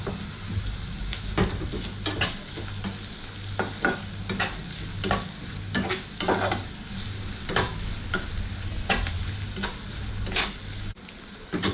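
Onions fry with salt in a pan, a continuous close sizzle punctuated by repeated sharp clacks of a spatula scraping and tapping against the metal, with no talking.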